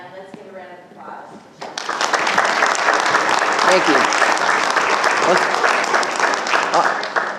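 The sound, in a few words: conference audience applause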